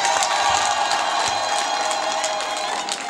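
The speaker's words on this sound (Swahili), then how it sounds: "pia mtupigie makofi" Audience applause at the opening of an entrepreneurship training in Masasi, a dense steady patter of clapping with some cheering and whoops from a crowd, continuous and fairly loud, easing slightly toward the end.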